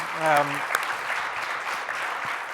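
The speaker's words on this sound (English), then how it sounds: "If we can give them a quick round of applause." An audience gives a quick round of applause, a moderate steady clatter of clapping in a room, briefly overlapped at the start by a short voiced exclamation.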